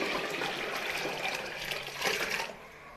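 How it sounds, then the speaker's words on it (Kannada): Water pours steadily onto washed toor dal in a large cooking pot, a continuous rushing, splashing flow that swells briefly near the end before easing off. "ತೊಳೆದಿಟ್ಟಿದ್ದು ಇದಕ್ಕೆ ನೀರು ಹಾಕ್ತಾ ಇದ್ದೀವಿ"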